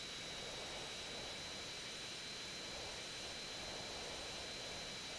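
Steady roar of a plane engine during an aerial dogfight in GTA San Andreas, a continuous broadband drone holding at an even level throughout with no speech.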